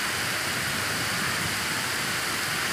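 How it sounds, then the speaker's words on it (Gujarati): Heavy, wind-driven stormy downpour fills the air with a dense, unbroken hiss, loud and constant throughout with no voices over it. "ધોધમાર વરસાદ."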